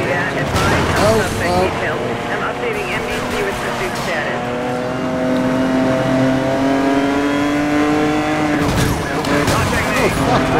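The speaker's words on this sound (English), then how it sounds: "The cop car trying to ram me." Police car chases and rams the player's car in Need for Speed: Most Wanted (2012), with loud revving engines rising in pitch, skidding tires and impacts close up, while a person talks over it.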